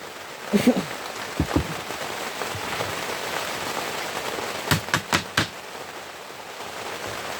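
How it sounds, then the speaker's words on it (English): Steady rain hisses on a surface just outside a garage, with a few sharp taps and knocks breaking through the constant wash. "Listen to that rain in my garage, eh?"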